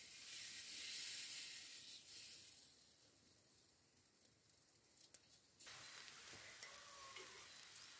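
Fasting dhirde made from ground barnyard millet batter frying in oil in a pan, a steady close sizzle and hiss that softens midway, then rises again as more oil is drizzled around the edges.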